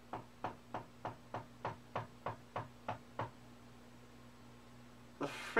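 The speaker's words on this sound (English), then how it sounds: "The frick is at my door, and why did they knock 13 times?" Thirteen sharp knocks on a door, evenly spaced and fairly close, land in a steady rhythm over about three seconds before stopping, followed by a faint rustle at the end.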